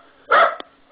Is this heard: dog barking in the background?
yes